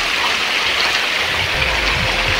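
Steady rain pours down in a dense, continuous hiss, close and fairly loud, with a low rumble underneath and no voices.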